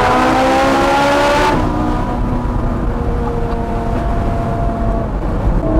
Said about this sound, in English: I don't think there's anything much louder than that Capristo exhaust on that 355.